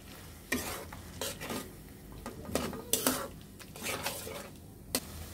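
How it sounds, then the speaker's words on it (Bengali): Spices being stirred and fried in a pan for a crab curry: repeated scraping strokes of a spoon against the pan at irregular intervals over a soft sizzle, close by. "এখন সবকটি মশলা ভালোভাবে কষে নিতে হবে।"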